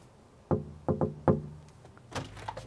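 Knuckles rap on a door: a single knock, then a quick double, then one more, sharp and close, followed by fainter shuffling, thumping handling sounds.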